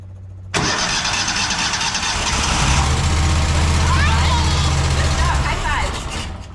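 Car engine cranking and catching after an EFI to carburetor conversion on a Walker MTGHS, starting abruptly and settling into a loud, rough running rumble close by, with people talking over it.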